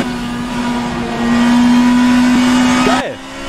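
In the racing sim rFactor 2, a BMW M3 E92 GTE race car engine holds a loud, steady high drone. The pitch rises, then drops sharply near the end, with a voice talking over it.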